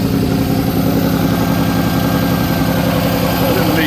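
Engine of a 1971 vehicle idling rich on choke, a loud close steady chugging rumble with even rhythmic pulses throughout.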